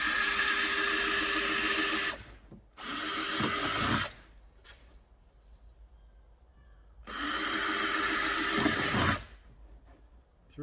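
A power drill bores small holes in a trim piece on an Alfa Romeo Giulia for a temporary cable-tie repair. There are three separate bursts of high-pitched whirring, each about two seconds long and close by, with quiet gaps in between.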